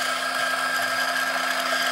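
Baratza Forte AP coffee grinder running at its coarsest setting, a loud, steady motorized whir with a constant high grinding hiss that holds unchanged for the whole stretch.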